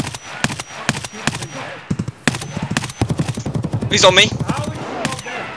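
Rapid bursts of gunfire in Escape from Tarkov at the Shoreline bunker, loud close shots in quick volleys across the clip, with a player talking over them.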